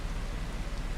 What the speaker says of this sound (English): I don't know why it's raining.